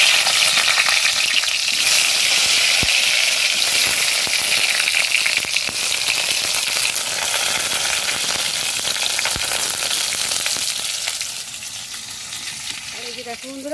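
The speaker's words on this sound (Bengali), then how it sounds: "এই যে দেখো বন্ধুরা পটলটা আমার ভাজা হয়ে গেছে" Pointed gourd frying in a smoking hot pan, a loud, dense, continuous sizzle with crackling that holds steady close up and eases slightly toward the end.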